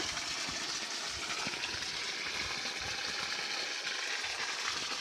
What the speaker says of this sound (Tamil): நாலு இன்ச்சு தண்ணி வருது